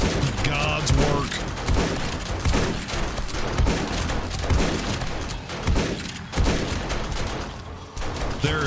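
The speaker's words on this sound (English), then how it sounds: "SMG turrets are doing God's work." Rapid bursts of SMG turret gunfire in the zombie survival game 7 Days to Die during a day 21 horde night, dense and continuous, with low booms and thuds mixed in throughout.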